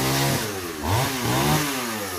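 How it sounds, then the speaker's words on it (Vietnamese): A chainsaw revs and bogs down while cutting trees beside a road being widened, the engine pitch rising and falling over about two seconds; loud and near, no talking. "Hôm nay là sẽ cưa rất là nhiều cây dọc theo cái con đường này nè các bạn"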